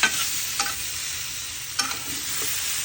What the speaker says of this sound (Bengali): এইভাবে আমি একটু ভালোভাবে কষাই নিব।